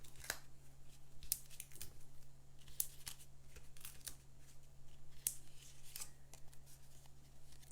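Scissors trim the edge of cardstock for a handmade stamped card, a series of quiet, crisp snips at close range with soft paper rustling between cuts.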